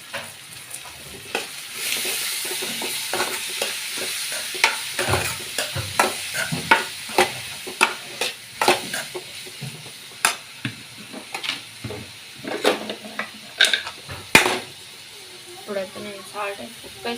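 Chopped tomatoes stirred into softened onions frying in a pan for tomato egg curry: a loud, close sizzle with a rhythmic scrape of the spoon repeating throughout, and a voice talking over it.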